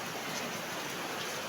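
Rain falls steadily in a short, even wash of soft hiss with no voices.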